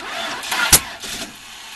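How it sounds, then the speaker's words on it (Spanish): A 1994 Spirit car engine with worn spark plug wiring cranks briefly, gives a sharp pop or catch, then sputters without settling into a clear idle; short and close, no voices. "Este carro ya debe de arrancar, señores. Así que vamos a hacer el intento de arrancarlo."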